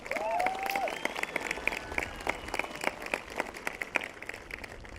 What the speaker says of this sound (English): Let's give the class of 2024 a round of applause.